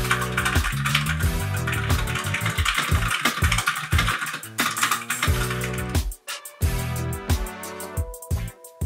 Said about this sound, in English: here's some ASMR of the keyboard my friends gave me for my birthday